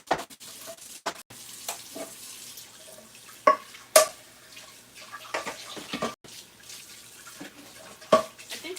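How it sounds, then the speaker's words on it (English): Running tap water splashes over dishes and into a kitchen sink during rinsing, a steady close flow broken by clinks and splashy bursts, with no talking. "Just rinse these off and I'll rinse the sink out."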